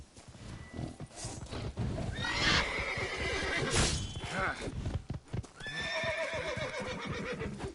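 A horse in The Witcher 3: Wild Hunt video game whinnies loudly twice, with hooves clopping and stamping around the calls, close and vivid.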